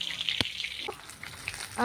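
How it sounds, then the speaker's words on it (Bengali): Hilsa fish frying in a pan gives a steady, close hiss of sizzling oil, broken by a sharp utensil click, with a brief voice at the very end. "এদিকে আমি ভাজা করছি ইলিশ মাছটা"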